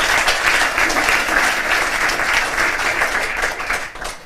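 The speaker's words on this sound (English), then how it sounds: "Please, a quick round of applause." An audience at a global health panel event in Berlin applauds a speaker from Save the Children Germany, steady, full applause lasting about four seconds before fading out.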